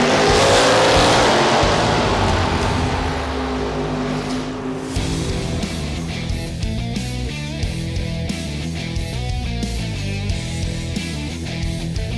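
Drag racing cars at a drag strip during a Halloween Classic event: a loud engine roar and tire noise sweep past early, then a steady, dense rumble of engines and crowd-like background continues to the end, with no talk.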